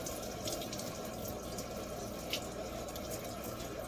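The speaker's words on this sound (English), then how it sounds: "Just gotta rinse it off real thoroughly, make sure all the acid's removed and denatured." Water runs steadily as acid is rinsed off freshly etched metal, a continuous soft splashing stream that is faint and close, with a few small drips and no talking.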